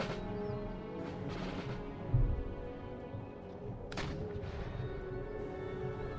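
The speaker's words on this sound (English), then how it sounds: "the field artillery's landing some shots in here" Field artillery firing in the battle game Empire: Total War, a couple of dull booming impacts with a heavier thud in the middle, set against a constant din of battlefield noise.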